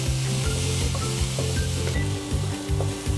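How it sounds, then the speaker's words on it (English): Onions sizzle steadily in a hot pan as they brown toward caramelization, with a continuous close fry broken by soft scraping stirs and no talking. "I'm going to saute the onions until they become lightly caramelized brown"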